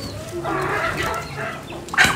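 Chickens cluck nearby in short, irregular bursts, with a louder squawk near the end.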